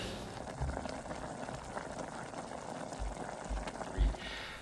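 A pot of water boils steadily with Nongshim Shin Black instant noodles, vegetables and soup bases in it, giving a continuous soft bubbling with occasional louder pops and no speech.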